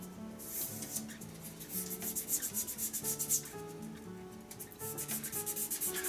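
A resin hybrid shaving brush handle turning on a lathe is sanded with 1800 grit paper, a soft rhythmic rubbing swish repeating quickly over a faint motor hum, close and steady without speech.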